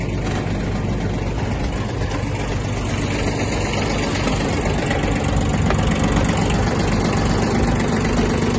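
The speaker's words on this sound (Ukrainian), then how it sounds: "Кардан крутиться і ножі працюють." A Yanmar F-175 mini tractor runs steadily with its PTO shaft driving the mower blades, a continuous close, loud engine drone with mechanical rattle and no voices.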